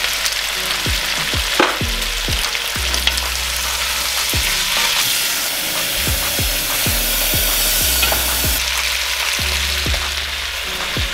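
Loud, steady sizzling of potatoes and chicken frying in a pan, with repeated scraping and stirring knocks throughout.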